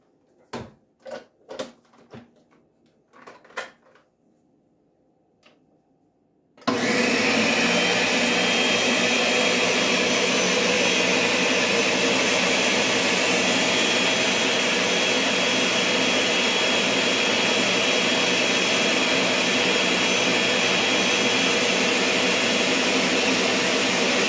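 A blender switches on after a few brief knocks and clatters and then roars loudly and steadily, mixing Puerto Rican coquito with a constant high whirring that fills the rest of the stretch.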